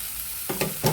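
Vegetarian soybean curry fries in a pan in a small home kitchen: steady sizzle, then two or three close, sharp scrapes of a spatula stirring near the end.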